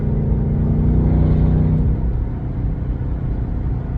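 Whipple-supercharged race truck engine revving while driving, a loud, steady low rumble with a rising whine that drops off about halfway through, continuous and close with no talk.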